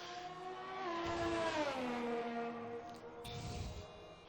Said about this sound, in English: It does sound like he's revving up that Renault engine.